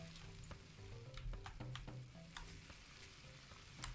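Food sizzles on a grill in the video game Cooking Simulator, a quiet steady frying hiss with scattered ticks and small pops, alone.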